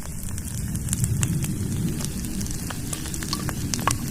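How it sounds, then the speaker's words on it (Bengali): Dried red chili paste, ground on a grinding stone, fries in oil with a soft, steady sizzle and scattered small crackles, alone and fairly quiet. "লঙ্কাটা ভাজা হয়ে গেছে"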